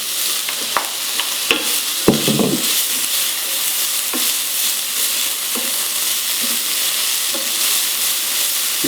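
Lardons frying with courgettes in a pan, a steady close-up sizzle and hiss with a few sharp scrapes and clicks of stirring near the start.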